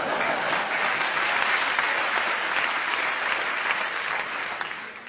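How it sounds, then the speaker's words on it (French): Comedy show audience delivers a full, sustained round of applause, dense and even in loudness, easing off slightly at the end. "On applaudit Bertrand, on applaudit Bertrand"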